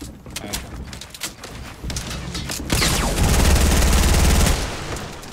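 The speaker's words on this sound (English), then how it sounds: "Someone shooting us down." Rapid bursts of gunfire in the video game Fortnite crackle loudly, building into sustained automatic fire in the second half with scattered shots before it, no talk over it.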